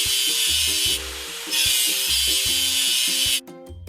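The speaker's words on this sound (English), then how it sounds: "Drag the grinder over the stain and clean the rust." Cartoon grinder scraping rust off a vehicle in a children's construction game, a steady bright buzzing whir that cuts in and out in short bursts over a repeating bouncy music loop, with no talk.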